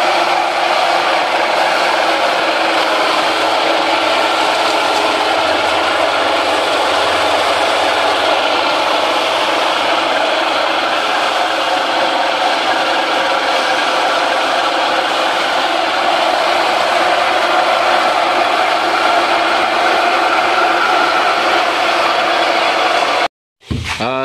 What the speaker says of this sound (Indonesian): Penggilingan jahe sebelum dimasak